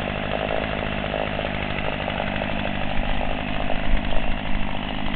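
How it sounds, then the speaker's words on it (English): A chainsaw running in a forest, its engine droning steadily and loudly close by with slight surges in pitch and load toward the end. "we see the intrepid forester Paulette Bunyan with her chainsaw stalking through the forest looking for a tree to fell"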